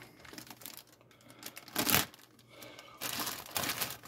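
White plastic bag packaging crinkles and rustles while a 1965 Chevy Impala Foose design model car kit is unboxed. Close, crackling handling builds into a loud burst midway, then comes back in a longer stretch of crinkling.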